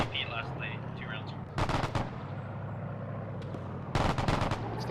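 Artillery rounds fire in a military video game, two heavy booming volleys about two seconds apart, loud and close over a steady rumbling background with a faint voice early on.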